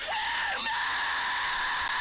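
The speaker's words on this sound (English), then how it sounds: "Here's my unedited scream for this." A single sustained, strained scream from a metal vocalist, recorded as one unedited take. It is loud and close, with a pitch bend midway and no other instruments.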